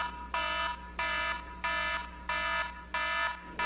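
An alarm in a theatre setting rings in five evenly spaced electronic bursts, each lasting about a third of a second with short gaps between, loud and steady, over a low hum with no voices.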